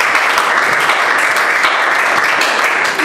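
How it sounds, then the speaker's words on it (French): A loud, dense wall of audience applause greeting guests at a religious gathering in Côte d'Ivoire, continuous and even with no gaps, many hands clapping together close by. "je vous prie respectueusement de recevoir, d'accueillir sous vos acclamations nos invités."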